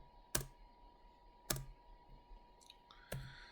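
Computer keyboard keys are pressed one at a time while working in AutoCAD, giving three sharp, distinct clicks spaced about a second apart against a quiet background.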